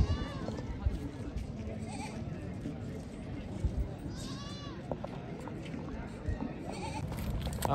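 Goats bleat a few times at a busy livestock market. The calls are partly buried under nearby people talking and a steady crowd murmur.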